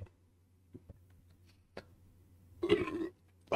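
A loud, close belch after drinking Ghost Energy Tropical Mango energy drink, preceded by a few faint clicks and followed by another short burst at the end.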